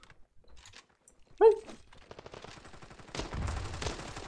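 Gunfire in the mobile shooter Standoff 2: one sharp nearby shot followed by a stretch of rapid, rattling bursts that thicken toward the end, with keyboard-like clicks in the background.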